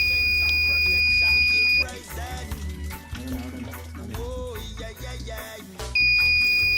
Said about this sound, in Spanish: Para la prueba de alarma se dispuso que ésta se activara a los 9 litros gastados, la cual se desactiva al cerrar la llave.